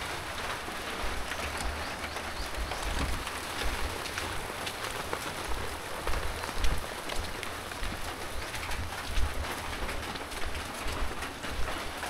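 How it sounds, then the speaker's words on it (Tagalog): Rain falls in a continuous, even hiss for about twelve seconds, with birds, including cooing pigeons or doves, calling now and then through the downpour and no voices. "Umuulan talaga"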